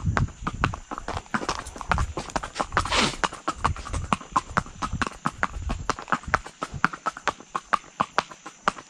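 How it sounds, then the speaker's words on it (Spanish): Horse hooves clip-clop in a steady, even rhythm as a young horse with limited muscle mass is ridden at a walk, crisp close hoofbeats repeating throughout with faint background noise. "Ese detalle bonito de llevar su caballo andando."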